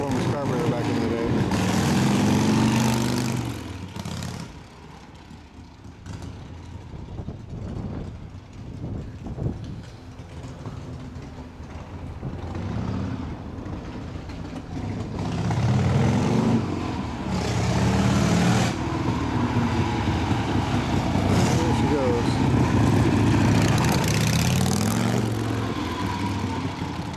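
A 1979 Harley-Davidson FLH custom with an SNSB carburetor runs nearby, its engine rumbling steadily and swelling in several throttle surges, with people talking over it.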